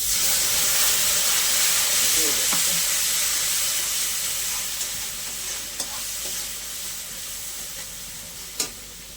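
Water poured into frying masala gravy for a fish curry sends up a loud, steady sizzling hiss that slowly settles into a simmer, with a few faint clinks from a utensil.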